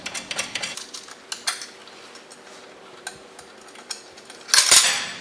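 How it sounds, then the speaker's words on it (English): Small metal tools work the battery-box bracket screws on a Rosso Motors electric ATV, giving sparse, close clicks and clinks of a 5mm Allen key and 10mm wrench, ending in a brief louder metallic rattle. "we're going to be using our 5mm Allen wrench and our 10mm wrench"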